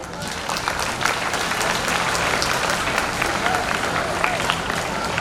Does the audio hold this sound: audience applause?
yes